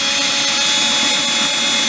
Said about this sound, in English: I'm just going to drill the pilot hole right here